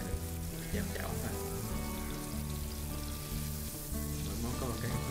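Chicken pieces pan-sear in hot oil for red wine chicken (coq au vin), giving a loud, steady sizzle and crackle throughout, with a voice talking over it.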